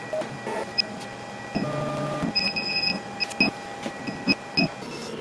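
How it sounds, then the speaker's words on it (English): A laser etcher works a logo into an anodized aluminum spindle mount, giving mechanical whirs, stepping hums and short high beeping tones in an irregular pattern, with no talk. "let's laser our logo on the front of the spindle mount"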